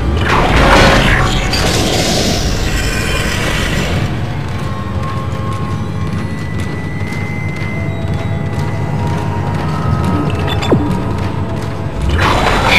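Asteroids bombard a spaceship hull in the Dead Space video game, heavy booming impacts and low rumbles with scattered metallic thuds and crashes, loud and continuous.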